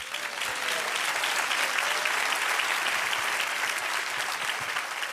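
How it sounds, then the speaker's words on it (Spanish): A church congregation bursts into sustained applause praising the Lord during a sermon, a dense, even wash of many hands clapping, loud and continuous, without speech over it. "Dale un aplauso al Señor."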